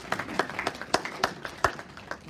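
An audience gives a few scattered, sparse claps, about seven distinct hand claps in quick irregular succession, fairly close and moderately loud.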